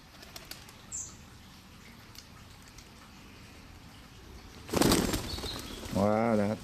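A burst of wing flapping as pigeons take off, loud and close, following a quiet outdoor stretch; a short bird call follows.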